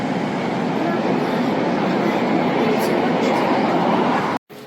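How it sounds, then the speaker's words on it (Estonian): A train in Vietnam passes a window, a loud continuous rumbling roar heard from indoors that holds steady before cutting off abruptly near the end. "Jaa, see on lahe, et siit näeb rongi ka."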